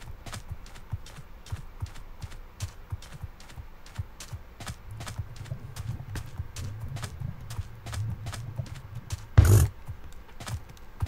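Horse hooves clip-clop in the Minecraft video game as a steady run of sharp, evenly spaced taps continues throughout, with one louder thump near the end.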